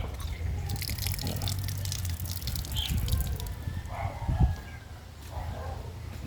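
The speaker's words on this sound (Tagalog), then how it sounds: "Malakas pa tulo." Water leaking and dripping at a farmyard, heard as irregular splashy drips over a steady background wash, with faint bird and chicken sounds around.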